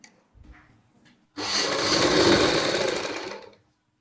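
A sewing machine stitches along buckram on the front of a kameez with a boat neck design, running in one steady burst of about two seconds after a few faint handling taps.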